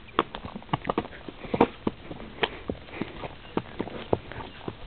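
Hooves of a horse out on a countryside ride, clip-clopping in a steady, fairly close rhythm of sharp repeated knocks over a quiet outdoor background.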